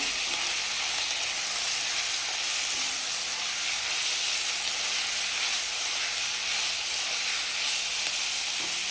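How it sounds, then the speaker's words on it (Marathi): Ghevda beans and onion stir-frying together in a pan, a loud continuous sizzle with a bright hiss that stays steady throughout, without talk. "आता घेवडी आणि कांदा एकत्र पुन्हा परतून घ्यायचा आहे आपल्याला"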